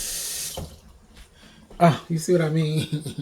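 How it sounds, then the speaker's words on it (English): Water from a kitchen tap pours steadily into a sink while soul food cooks, loud and close for about half a second before a person starts talking. "While I got that water running."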